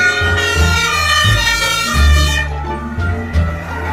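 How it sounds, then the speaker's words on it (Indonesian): A toy fire truck sounds a steady electronic siren, loud and close, its warbling tone repeating for about four seconds with no talk over it. "Di sini ada mobil pemadam kebakaran teman-teman."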